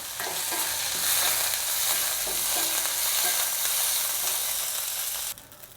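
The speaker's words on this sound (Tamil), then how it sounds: "இப்போ கருவேப்பிலையை சேர்த்து வறுத்து எடுத்துக்கலாம்" Curry leaves fry in a pan over low heat, giving a loud, close, crackling sizzle with faint stirring taps that cuts off sharply near the end.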